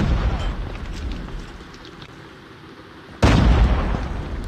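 A grenade goes off in the mobile game Call of Duty Mobile: a low rumble of play is cut by a sudden loud, booming burst that holds to the end.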